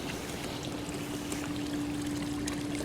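Water trickling and leaking steadily from a backyard waterfall feature, a continuous close splashing flow with a faint steady hum beneath it.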